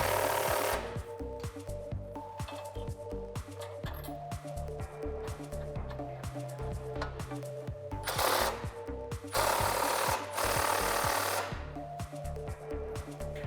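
A power tool with a 16mm socket and extension tightens brush guard bolts on a 2004-2008 Ford F-150, giving repeated rattling bursts of impact hammering with brief pauses and louder whirring stretches near the end.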